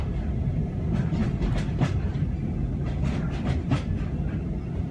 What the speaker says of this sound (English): clickety-clack goes the track